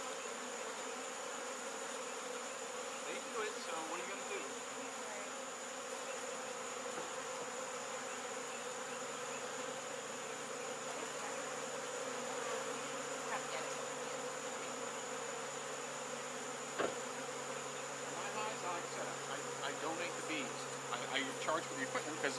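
Dense, steady buzzing of a honey bee colony living inside a propane tank, close and continuous with no break, with faint rustling throughout.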